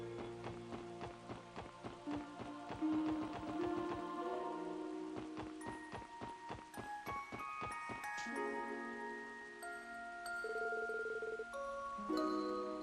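Rain falls steadily in a video game town scene, a soft pattering wash under a rhythmic run of footsteps and bright musical tones that layer in and sustain over the top.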